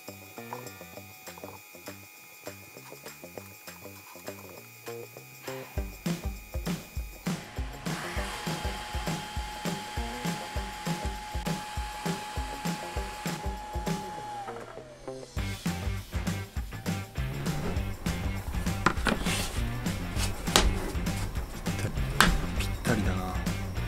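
Creality Falcon laser cutter at work on wood, cutting a keychain from thin rosewood-like karin inside a vehicle. The gantry motors whir and tick rhythmically in repeated pulses alongside a steady fan hum, quiet and close, with no talking.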